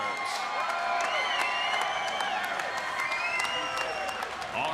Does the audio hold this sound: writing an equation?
no